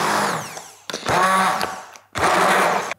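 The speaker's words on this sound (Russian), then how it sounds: "Тыква готова, теперь ее нужно пробить блендером." A kitchen blender purees cooked pumpkin in three short loud whirring bursts, each buzzing grind cutting off abruptly between pulses.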